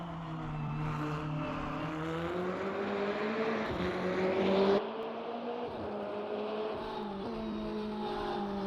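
Aston Martin GTE twin-turbo V8 race car in a racing game, engine revving up through the gears with rising whine, a sharp shift drop, then climbing again, loud and close.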